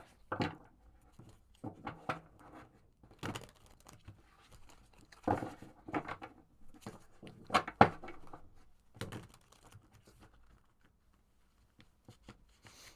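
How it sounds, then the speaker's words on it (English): Quiet bursts of cards riffling and snapping together, several short shuffles separated by pauses, close by. "Let's go ahead and shuffle these cards up a little bit."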